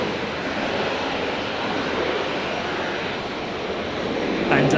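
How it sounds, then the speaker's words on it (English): A Qantas Embraer 190 jet touching down on arrival, its steady broadband engine roar loud and continuous throughout, with a brief shift near the end. "Qantas 356 just touching down there, the Embraer 190 arriving from Wellington"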